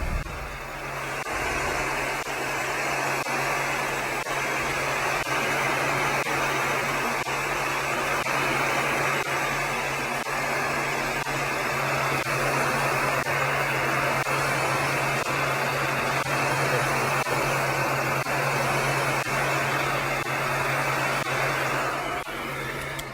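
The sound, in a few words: heater heat-forming orthopedic diabetic shoe inserts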